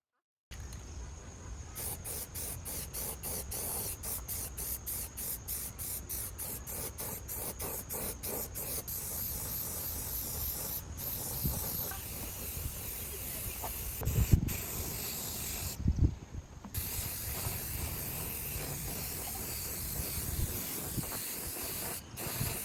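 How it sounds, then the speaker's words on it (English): A spray paint can hisses out a top coat in long steady bursts, close and fairly loud, with a few brief pauses and short gaps between passes. "I'm going to spray the top as well"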